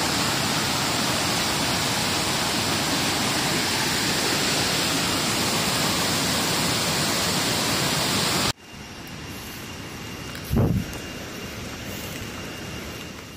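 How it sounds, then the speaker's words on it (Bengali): The Rainbow waterfall at Nongriat roars as a loud, steady, dense rush for about eight seconds. It then cuts to a much quieter outdoor ambience with one brief low thump. "দেখেন এই ঝর্ণাটা একটু"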